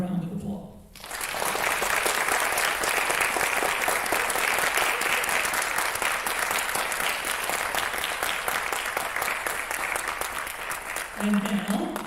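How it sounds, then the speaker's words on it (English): Underclassmen in the audience at a 2021 state speech and debate awards ceremony give their seniors a loud, sustained round of applause lasting about ten seconds, with a voice speaking briefly just before and just after it. "Underclassmen, give your seniors a round of applause."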